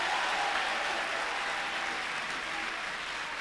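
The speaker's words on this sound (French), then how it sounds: "Applaudissez encore pour le tas ici." Dense applause from a crowd, loud and sustained throughout with no distinct voices on top.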